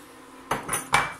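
Lemon cream with butter being stirred in a pan, heard as two quick metallic clinks and scrapes of a utensil against the pan, close and otherwise quiet.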